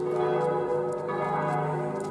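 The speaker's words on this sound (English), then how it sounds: "The bells are still ringing." Church bells ring continuously in a town setting in Blotzheim, a steady, full tolling wash of overlapping bell tones heard at moderate distance with no talk.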